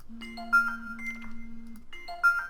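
A phone notification chime for an incoming dispatch rings out alone, a short tonal melody that plays once and then begins to repeat near the end.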